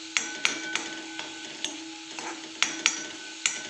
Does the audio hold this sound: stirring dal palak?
yes